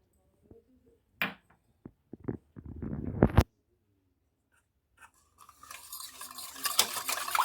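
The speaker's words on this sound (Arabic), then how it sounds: "وغنبقاو كنحركو" Cream dessert mixture stirred in a pot with a spoon or whisk, giving soft scraping and clinking strokes in bursts, followed by a steadier, brighter swishing stir toward the end.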